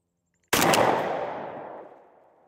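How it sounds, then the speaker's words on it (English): A single loud 20 gauge shotgun blast fired with dove load during turkey ammo pattern testing at 50 yards, a sharp close crack followed by a long fading boom and echo, with no talk. "shot number one with dove load"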